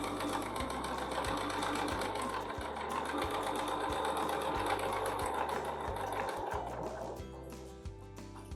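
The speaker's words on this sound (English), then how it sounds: "once or twice up and down with your needle to lock in your stitch, and then stitch back to the center" A sewing machine stitches a pointed leaf oval quilt block in steady rhythmic bursts, a few short stops between runs, close and clear with no talking.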